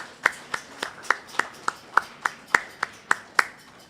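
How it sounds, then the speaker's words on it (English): Audience claps at a devotional Bhagavat yagna gathering in sharp, evenly spaced single claps, about three per second, crisp and close with a quiet room behind them. "Let's give my boy a little clap, please."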